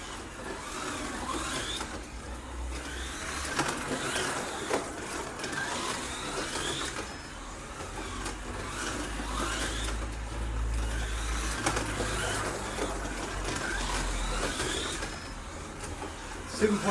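A Scalextric Ford Sierra RS500 Texaco slot car lapping a track, its small electric motor whirring and rising and falling steadily at moderate volume, with someone talking over it.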